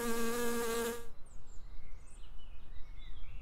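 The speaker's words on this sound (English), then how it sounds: "A busy hive is always buzzing." Honeybees in a busy hive give a loud, steady, droning buzz that cuts off abruptly after about a second, leaving quiet background with a few faint chirps.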